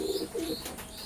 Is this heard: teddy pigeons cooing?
yes